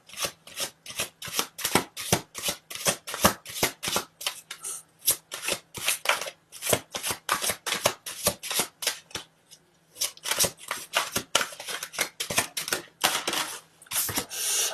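Tarot cards being shuffled close up in a quiet room, a long series of crisp, rapid riffling flicks in uneven bursts, with a brief pause near the ten-second mark.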